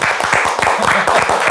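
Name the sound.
audience applause, hand clapping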